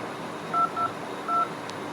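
A telephone number is dialed: three short keypad tone beeps, two close together then one after a pause, faint and clean over a quiet background hiss.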